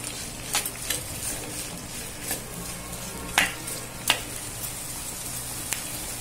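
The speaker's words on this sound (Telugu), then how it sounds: "ఇప్పుడు కరివేపాకు కూడా ఫ్రై అయింది కదండి, దీంతో ఇప్పుడు మనం కట్ చేసి పెట్టుకున్న ఆనియన్స్ వేసుకుందాము" Chopped onions sizzle with curry leaves in a pan, a soft steady frying hiss broken by a few sharp stirring clatters of a spoon.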